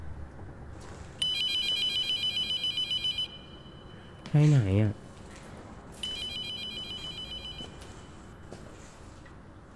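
A telephone rings in the horror video game Abandoned Souls, two bursts of rapid electronic trilling ring a few seconds apart, with someone briefly talking between them.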